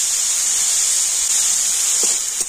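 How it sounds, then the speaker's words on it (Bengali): Beetroot frying lightly in oil in a pan, giving a steady, loud sizzling hiss throughout, with a couple of faint stirring knocks near the end. "তেলের উপরে বিটটা কিন্তু হালকা করে নাড়াচাড়া করে নিচ্ছি।"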